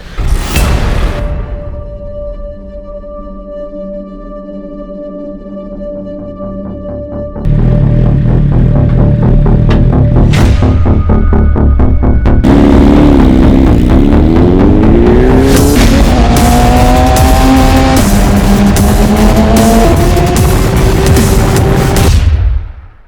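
Motorcycles set off at a Streets of Willow track day, one bike converted from a Gixxer: a loud, continuous engine roar builds from idle into rising, revving sweeps as the bikes pull away up close.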